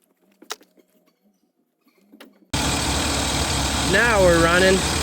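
A six-wheeled Toyota engine starts up suddenly and settles into a loud, steady idle close by, with a wavering tone rising over it, after a few quiet knocks and sounds of movement.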